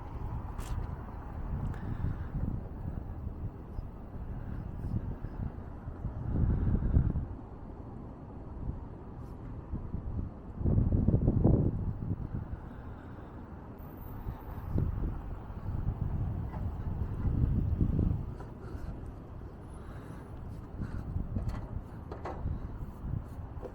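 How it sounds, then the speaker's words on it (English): Wind blowing outdoors at sunset, low rumbling buffets against the microphone that swell into several stronger gusts and then ease off, with no one speaking. "as the sun sets, the wind speed picks up and it's getting a little cold"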